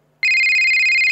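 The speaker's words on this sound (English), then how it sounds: "Hey, your phone is ringing." A phone ringtone suddenly starts after a brief silence, a loud, steady electronic tone pulsing rapidly and close by.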